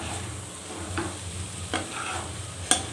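Prawn fry in a pan gives off a steady close sizzle while a spoon stirs it, with a few sharp scrapes against the pan and no voices.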